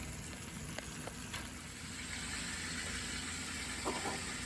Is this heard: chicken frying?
yes